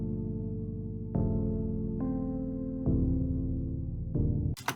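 A Goldham Wood synth preset in a lo-fi FL Studio session plays low arpeggiated notes, with a few distinct note changes about a second apart that ring softly and steadily with no voices.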